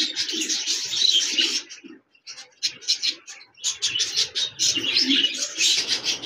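A pair of budgerigars chirps at a bird farm, close and lively, with quick high twittering bursts, a brief lull, then more chatter over a faint low background.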